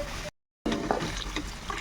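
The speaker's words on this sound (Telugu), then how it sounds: "ఉల్లిపాయ ములిగేదాకా కొంచెం వాటర్ వేసుకోవాలండి." Water is poured from a glass into a cooking pan of onion and tomato with chili powder for a fish curry: a steady close splashing rush, broken by a brief silent gap, then resuming.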